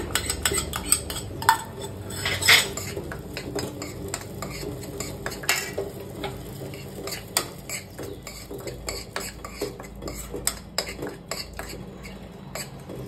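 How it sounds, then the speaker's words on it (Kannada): Wheat flour roasting in ghee for halwa is stirred in a pan. A metal spoon scrapes and clinks against the pan in a quick, repeated rhythm over a faint sizzle, close and fairly loud. "ಇದನ್ನ ತುಪ್ಪದಲ್ಲೂ ಸ್ವಲ್ಪ ಫ್ರೈ ಮಾಡ್ಕೋಬೇಕು."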